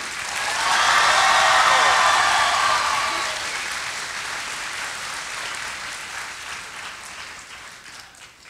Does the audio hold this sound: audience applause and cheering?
yes